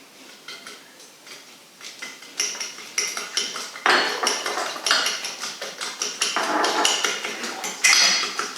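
Salt and sugar are being mixed into a French toast mixture, and a utensil clinks and taps quickly against a bowl. The steady, close stirring runs on alone and grows busier and louder partway through.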